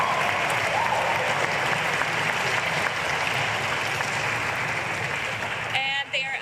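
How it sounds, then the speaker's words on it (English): Sustained, dense applause from an audience honors the Sunrise Mountain students at the SMart Center ribbon cutting, holding steady and loud for several seconds before cutting off abruptly near the end. "How about one more round of applause for these students?"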